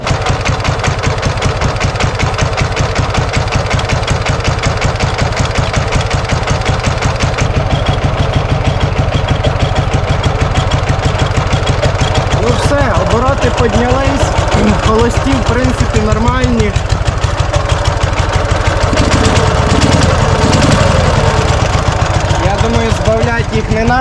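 Dnepr MT11 motorcycle engine with PZ30 carburetors being tuned, a loud, close, steady rhythmic thrum that lasts throughout as the revs rise and fall, while someone speaks intermittently over it.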